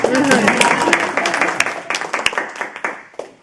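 Audience applause at a panel talk, a fairly loud round of clapping that thins to distinct claps as it dies away, with a voice talking over it.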